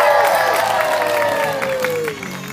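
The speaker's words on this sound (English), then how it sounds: "Let's hear it for the Vandal Wheel of Death. Ladies and gentlemen, whoop, cheer and scream." Crowd at a Wheel of Death stunt show at Butlins Minehead claps and cheers loudly under fading music, the clapping thinning toward the end.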